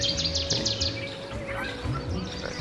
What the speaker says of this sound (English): Oh, the bird's right there.